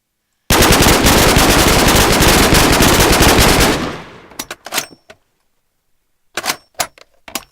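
An MP5 submachine gun in a video game fires a loud sustained burst of rapid shots for about three seconds, followed by scattered mechanical clicks and clunks.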